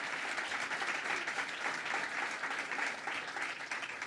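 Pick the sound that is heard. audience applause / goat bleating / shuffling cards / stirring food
audience applause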